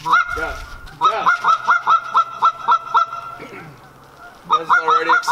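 Geese honk repeatedly and loudly close by, a rapid string of nasal calls with a short lull before another burst, in an outdoor setting near a farm building.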